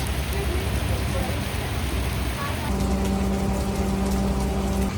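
Steady rain falls in the hills near Jim Corbett, a dense, even hiss that runs throughout, with a faint hum joining partway through.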